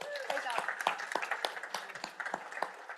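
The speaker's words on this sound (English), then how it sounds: "Let's give them a big round of applause." Audience applause at a Survivor competition event. Scattered, sharp handclaps run through the whole stretch, fairly quiet and slightly distant, with people talking over them.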